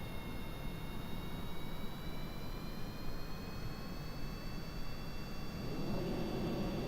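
A plane engine in Kerbal Space Program drones steadily at low volume, a smooth jet-like hiss with faint rising whine tones carrying through the whole stretch.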